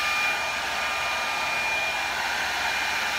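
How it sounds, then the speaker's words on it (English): A blow dryer runs at a constant, loud, steady whir close by while heating fast-setting Pro Marine resin on a wooden panel, with no voices. "I have to use a blow dryer"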